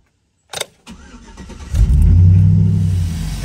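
A Chevy 1500 truck, just fitted with new belts, tensioner and idler, cranks briefly then catches and roars into a loud, steady idle close by, with no talk.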